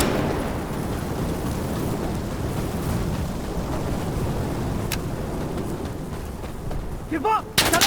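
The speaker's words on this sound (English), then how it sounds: "I'm ready to call in fire support." Artillery fire-support strike in the video game Insurgency Sandstorm: continuous heavy rumbling barrage of distant blasts, loud and dense, ending with a sharper burst and a short shouted voice near the end.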